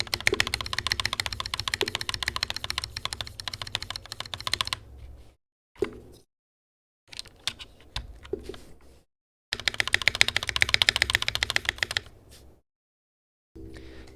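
Bursts of rapid clacky typing on a mechanical keyboard, including an enter key and a reversed spacebar, come in several runs separated by silent pauses, close up and crisp, with no voices.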